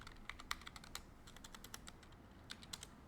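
Typing on a computer keyboard, a quick irregular patter of faint, close key clicks with brief pauses between bursts, heard alone.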